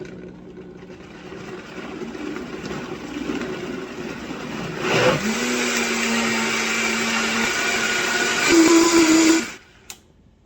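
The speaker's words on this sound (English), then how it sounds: "let's go get this into the blender" A kitchen blender blending sauce whirs steadily, its motor pitch shifting partway through, then rising briefly before cutting off abruptly near the end.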